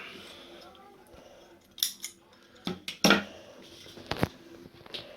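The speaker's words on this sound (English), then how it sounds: "Snip that off." Scissors snip off the end of twisted wire while a 3.5 mm jack to twin RCA audio cable is being made by hand. A few sharp, close metallic cuts and clicks sound in a quiet room with no talk.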